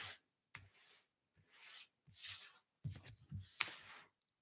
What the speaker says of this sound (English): We're going to shuffle again because nothing jumped right out.